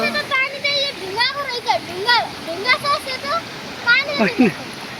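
Clear, cold water of the Risang river in Jajarkot, Nepal, flows and splashes as a steady rush beneath the chatter of children and adults talking and calling close by.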